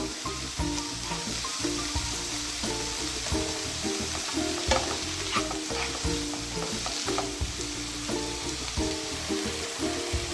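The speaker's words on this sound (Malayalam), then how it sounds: "ടൊമാറ്റോ ഒരു ടൊമാറ്റോ ഇത്രയും കൂടെ ചേർത്ത് ഒന്ന് ഇളക്കി കൊടുക്കാം" Continuous sizzling and frying with repeated scraping strokes of a spoon stirring tomato into Kerala-style chickpea kadala curry in a pan, close and steady throughout with no talking.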